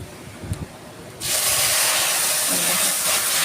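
Hot onion tempering hits a pot of dal, bursting into a sudden loud, steady sizzle and hiss that follows a moment of quiet clatter.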